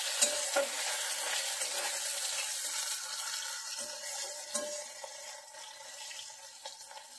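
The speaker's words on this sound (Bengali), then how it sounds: "মাছটা ভাজা হয়ে গেছে মাথাটা" Baila fish heads fry in a pan with a steady, close sizzle and crackle, punctuated by a few soft stirring knocks, with no talking.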